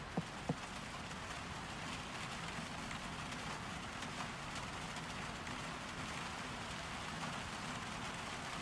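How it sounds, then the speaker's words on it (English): Rain in the video game Hytale pattering against a window, a soft, steady hiss of drops with a couple of faint taps near the start. "The player walks upstairs, taking the time to stop and listen to the pitter-patter of rain through the window."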